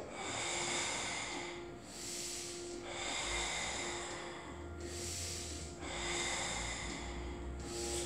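Slow, heavy breaths during a glute and leg workout: long hissing exhales alternate with inhales in a steady rhythm, close to the microphone over a low hum, with no talking.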